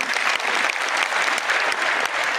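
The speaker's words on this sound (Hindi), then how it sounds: "एक शानदार तालियां खुद के लिए प्लीज।" A crowd applauding at a wellness celebration in Karnal, India, with dense, continuous clapping close by that holds steady and loud from start to finish.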